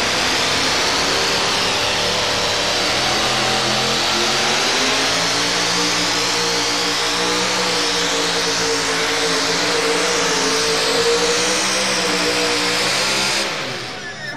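A big supercharged 470 Chevrolet engine in the Telstar monster truck revs hard and steadily through a run at a 1987 USHRA motorsports event, a loud continuous roar with rising and falling pitch that cuts off near the end.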